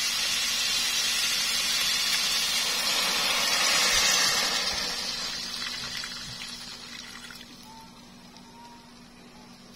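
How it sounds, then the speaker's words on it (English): Water runs into a pan for cooking pancit canton noodles, a steady broadband pour that swells to its loudest around four seconds and then tapers off, with a low hum underneath and no talking. "So let's add in water to make our noodles cook."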